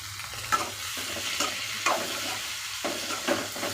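Onions and grated coconut sautéing in a pan with coriander leaves, a continuous bright sizzle with spatula scrapes and stirring bursts every second or so, close and alone.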